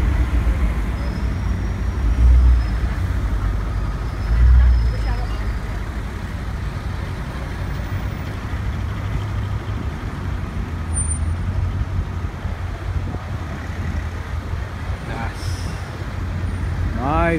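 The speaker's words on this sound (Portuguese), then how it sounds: "Mais Bentley atravessando ali" A Bentley drives past amid busy London street traffic, a steady broadband rumble of engines and tyres with a couple of louder swells as vehicles go by, and voices talking over it.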